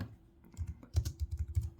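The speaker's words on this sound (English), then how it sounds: "If I go to orders and type in celiac screen or celiac" Quick bursts of clicking keystrokes on a computer keyboard, typing a search for a celiac screen into a hospital orders system, close and fairly light, in an uneven rhythm that speeds up toward the end.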